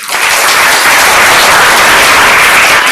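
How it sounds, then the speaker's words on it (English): A loud, dense round of applause from an event audience, sustained clapping that fills the whole stretch evenly and close to the microphone, with no talk over it. "Round of applause."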